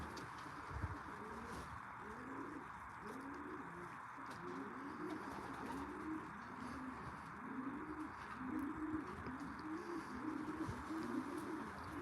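Racing pigeons coo in a soft, continuous run of repeated throaty calls, several birds overlapping at a fairly faint level against a low background hum.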